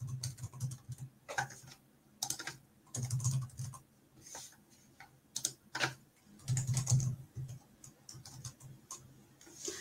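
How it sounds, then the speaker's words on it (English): Fingers type on a computer keyboard in irregular bursts of quick, close clicking and tapping, separated by brief pauses, with no speech. "I can retype it."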